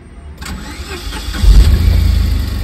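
A Tata Nano car engine cranks and catches, settling into a loud, close, low rumbling idle after a brief starter whir, with no talk over it.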